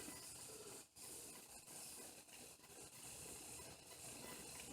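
A freshly greased spincast fishing reel spun by hand gives a steady, close ratcheting whir with a hissy edge and a few brief pauses, with no voices.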